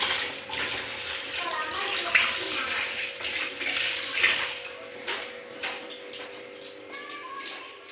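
Fresh coriander being rinsed under running tap water, a continuous splashing flow with small clinks and shifting water noise, fairly close and moderate in level.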